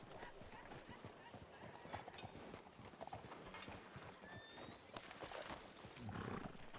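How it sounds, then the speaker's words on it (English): A horse in a roleplay video game clip-clops along in a steady stream of close hoofbeats with a short whinny partway through, under ongoing game ambience. "There's my horse."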